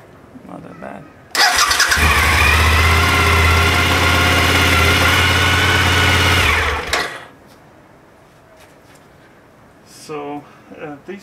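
A Suzuki SV1000 motorcycle fitted with a DIY 4.2Ah LiFePO4 battery cranks and fires, a loud steady starter-and-engine roar lasting several seconds before cutting off, with brief talk before and after.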